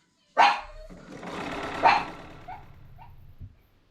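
A pug barks twice from a chair at a window, sharp and fairly close, with a couple of softer yips trailing after, over a low steady hum.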